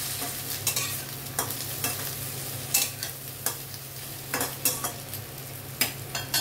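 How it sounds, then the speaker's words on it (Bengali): Masala is stirred in a frying pan for methi bhindi, with a steady background sizzle broken by repeated sharp scrapes and clacks of the spoon against the pan. No one speaks. "অল্প, একটু নেড়ে নিচ্ছি। মশলাটা পুড়ে যেতে পারে।"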